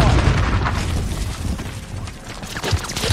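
Grenade blast in the video game Modern Warfare, a low boom layered into continuous dense gunfire and rumbling battle noise, with game voice callouts over the din.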